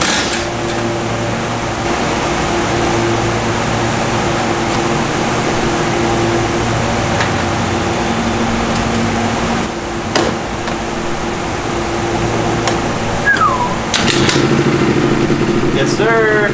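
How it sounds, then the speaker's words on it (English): A 1990 Yamaha Zuma scooter engine runs steadily at close range, a continuous idling drone with a brief dip near the middle; a faint squeak-like sound appears near the end. "this thing doesn't like to start right now, but once it's warmed up, the thing runs cherry"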